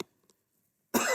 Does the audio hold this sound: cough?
yes